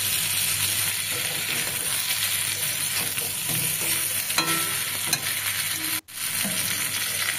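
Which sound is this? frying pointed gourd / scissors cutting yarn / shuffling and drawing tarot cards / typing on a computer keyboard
frying pointed gourd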